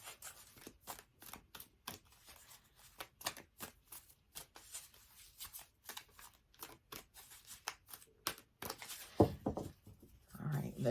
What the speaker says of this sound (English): Here's the deck for the Angel Tarot cards. I'm going to shuffle these up.